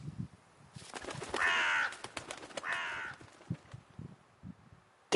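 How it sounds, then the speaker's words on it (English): A bird, likely a crow, calls out in the Toussaint countryside of The Witcher 3: Blood and Wine, giving two loud, harsh caws in succession over light clicking and rustling ambience. "Bird."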